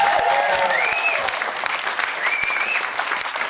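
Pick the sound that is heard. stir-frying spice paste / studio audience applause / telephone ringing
studio audience applause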